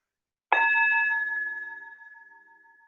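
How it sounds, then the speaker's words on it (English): A meditation bell is struck once, giving a clear bright ring with several sustained tones that shimmer and slowly fade over a couple of seconds in an otherwise quiet space. "And then we follow the sound of this bell."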